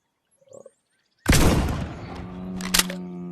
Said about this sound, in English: Oh god, we have a single shot shotgun.